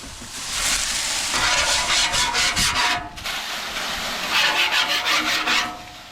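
A metal scraper rasps across a Blackstone griddle in repeated rough strokes. The scraping is close and loud, and a brief pause breaks it midway.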